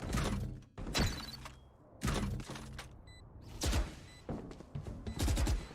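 Bursts of gunfire from the video game Valorant ring out in several sharp clusters, some rapid volleys and some single shots, loud and close with brief quiet gaps between.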